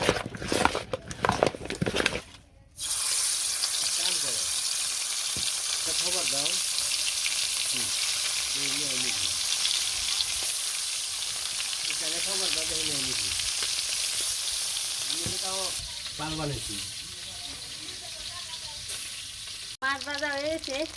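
Fish seasoned with turmeric, chili and salt frying in a pan in a village kitchen: a steady, loud sizzle throughout, with a few faint voices and scattered tones in the background.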